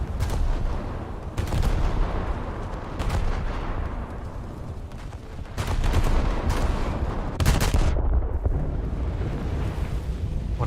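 Naval guns in a warship video game fire again and again, a dense run of heavy booming salvos with sharp loud blasts standing out over a constant rumbling background.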